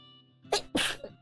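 A single person sneezes twice in quick succession, two sharp bursts close to the mic with a faint voice sound trailing after, otherwise quiet.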